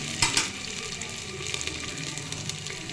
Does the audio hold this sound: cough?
no